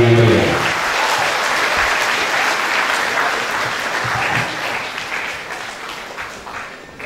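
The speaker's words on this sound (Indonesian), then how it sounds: "Kita berikan tepuk tangan yang meriah." A seminar audience in Medan gives warm, full applause as an honorary member is recognized; the clapping starts strong right after a brief voice, then holds steady and slowly tapers off.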